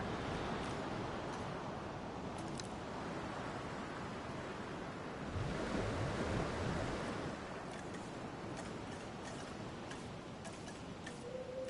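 Storm ambience in the dinosaur park game Jurassic World Evolution 2: a steady roar of wind and rain-like noise runs throughout, with faint ticking clicks scattered over it and a slight swell in the middle.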